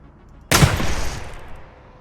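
A single sharp gunshot from a gun in Receiver 2 cracks loudly and close, followed by a short decaying echo tail.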